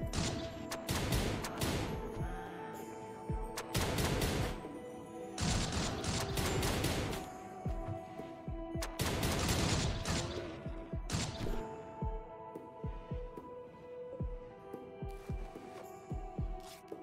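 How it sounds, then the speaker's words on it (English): Gunfire in Rimworld 40k, bursts of sharp shots in repeated clusters across the whole stretch, loud and close, with a low steady hum underneath and gaps between volleys. "There's shots being fired somewhere."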